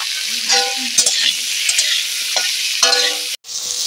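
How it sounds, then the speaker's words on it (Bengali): Potatoes and papaya with turmeric are stirred in a pan, with scraping strokes over a steady sizzle, close and fairly loud, and a brief dropout near the end. "আলু পেঁপে একসাথে দিয়ে একটু নেড়ে নেবো"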